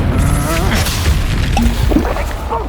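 Incendio fire spell cast in the video game Hogwarts Legacy, with loud, close bursts of whooshing and crackling impact under excited voices talking over the game action.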